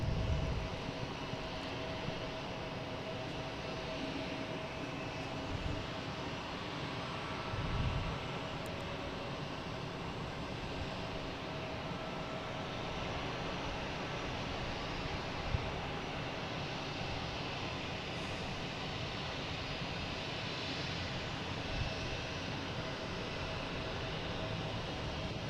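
Delta Embraer E175 regional jet on flight 5850 arriving from LaGuardia, a steady broadband engine roar that holds at a fairly even level throughout, moderately distant, with no voices.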